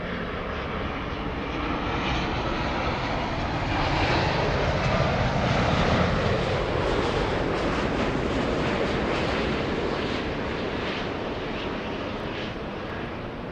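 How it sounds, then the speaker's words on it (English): An All Nippon Airways Dreamliner jet arriving at LAX from Haneda, a loud, continuous broadband engine roar that swells toward the middle and slowly eases off, heard alone without talk. "This one flying in from Haneda, All Nippon"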